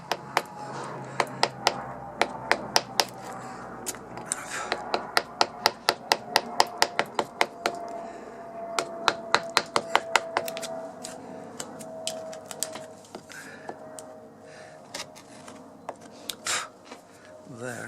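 A hand chisel tapped into wood to cut a door hinge recess, a rapid series of sharp close knocks in bursts that slows and fades toward the end, with a brief spoken word.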